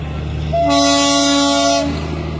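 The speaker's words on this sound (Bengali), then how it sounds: "ওই যে টয় ট্রেন চলে এসছে বাতাসিয়া লুপে।" A Darjeeling toy train sounds a loud, sustained horn blast of about a second and a half as it arrives at Batasia Loop, standing out clearly over a low steady rumble.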